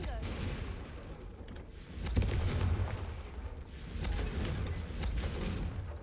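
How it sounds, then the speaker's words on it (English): Confringo explosive spell in the Hogwarts Legacy video game: a sharp blast followed by bursts of crackling, rumbling explosions, fairly quiet overall, under a continuous noisy game background. "Confringo!"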